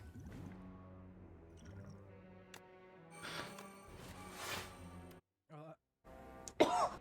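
A person coughs and clears their throat several times close to the microphone, with brief gaps of silence between the bursts.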